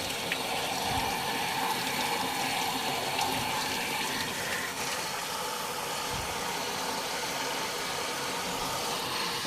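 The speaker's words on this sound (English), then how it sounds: "Just simply rinse the filter out with water." Water from a tap pours steadily over a Dyson V11 vacuum filter being rinsed, a continuous close hiss and splash with no talk.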